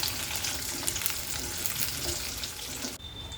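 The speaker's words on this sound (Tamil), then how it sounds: "நல்லெண்ணெய் கண்டு பொங்கி வருது பாருங்கள்." Sesame oil sizzling steadily in a pan as shallots, garlic and dried chillies fry for a pepper kuzhambu, a dense continuous crackle that cuts off abruptly near the end.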